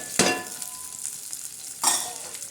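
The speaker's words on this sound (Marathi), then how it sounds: "कांदा टमाटर कढीपत्ता याची चांगली आपण आता फोडणी देणार आहोत" Two sharp sizzles as onion, tomato and curry leaves hit hot oil in a pan for tempering, each bursting loudly then fading into a soft, steady crackle.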